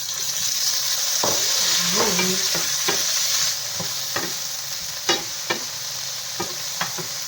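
Chopped onions and tomatoes sizzle in a hot pan as they are stirred. A dense frying hiss starts off louder, then eases, broken by scattered scraping and clinking strokes of the utensil against the pan.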